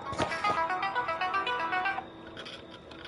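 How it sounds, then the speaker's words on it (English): A phone rings in the Friday the 13th video game, a bright electronic ringtone repeating for about two seconds before cutting off, then quieter game ambience. "Ah, phone call."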